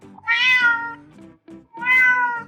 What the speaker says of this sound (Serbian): Mačke mjauču